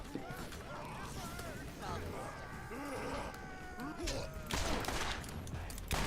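Gunfire from the video game Borderlands crackles in quick bursts under talking and game sounds, loudest in a dense volley near the end.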